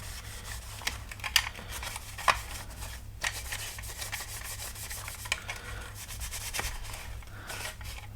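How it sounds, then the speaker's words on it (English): Cloth rubbing alcohol cleaner over a surface to be painted, a steady soft scrubbing rasp with a few sharper scrapes and knocks, close and continuous with no talking. "You need a little bit of water content to be able to rub and get the cleaning action."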